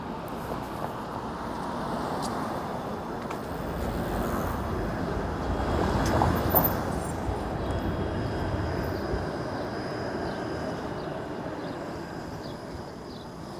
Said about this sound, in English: And that streetcar will soon be heading underground as it dives into St Clair West Station.